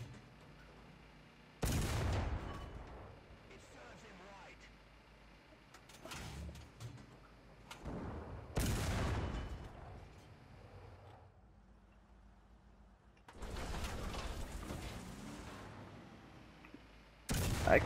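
Tank cannon shots in the War Thunder battle game sound as a few heavy, booming blasts spaced several seconds apart, with faint rumbling and mechanical noise in between.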